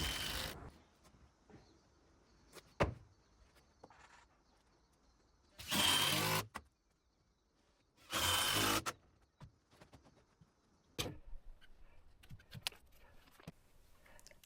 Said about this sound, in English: That will screw it all together.